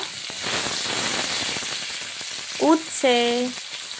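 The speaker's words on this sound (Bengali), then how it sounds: "উচ্ছেগুলোকেও আমি ভালো করে ভেজে নিচ্ছি" Sliced bitter gourd sizzles in hot oil with a steady crackling hiss; near the end a few brief tonal squeals cut in over the frying.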